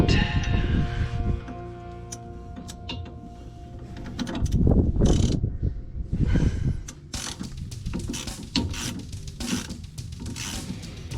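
A socket ratchet working on bolts during an engine teardown of a Ford F150 with a twin-turbo 5.0, giving bursts of rapid clicking and metallic scraping with clanks between them, close and fairly loud with no talking.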